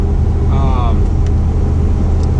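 A snowmobile engine idles cold with a loud, steady low rumble, while a faint whistle-like tone rises briefly near the start.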